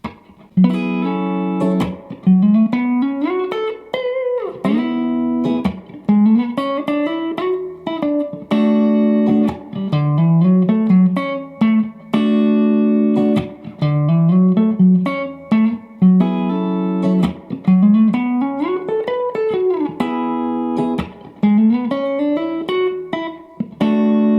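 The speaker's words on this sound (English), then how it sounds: "we're going to start playing lead with some chords" Electric guitar chords ring under a melodic lead line that slides and bends up and down, played continuously and fairly loud without any talking.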